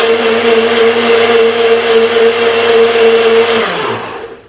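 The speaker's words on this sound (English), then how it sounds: "Blend it up for about 15 seconds." A blender whirs loudly at a steady high speed for several seconds, then winds down and stops.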